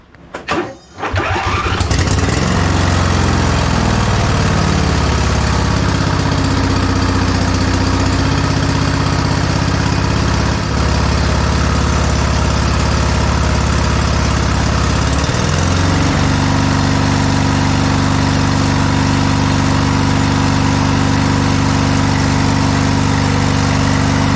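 A 2005 Husqvarna YTH2448 ride-on lawn mower engine cranks, catches and then runs steadily at around full throttle, a loud continuous drone with a slight shift in pitch partway through and no talking.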